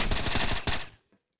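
P90 submachine gun fire from the Combat Arms shooter, rapid loud close bursts crackling steadily for about a second, then cutting off to near silence with one faint trailing click.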